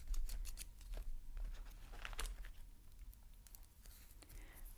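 Medical scissors snip through a burn wrap in a close, quiet setting, giving sharp crinkly cuts and small crunches in an irregular run of several snips.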